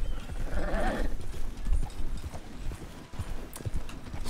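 Horse in Red Dead Redemption with its stamina spent, hooves clip-clopping in an uneven rhythm close by, with a snort or whinny near the start.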